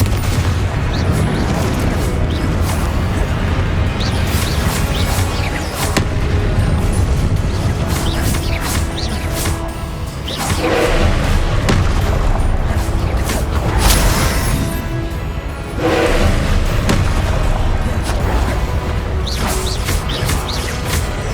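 Confringo blasting spells erupt repeatedly during combat in the game Hogwarts Legacy, with loud booming explosions and crashing impacts over a dense, continuous rumble of battle noise and whooshes.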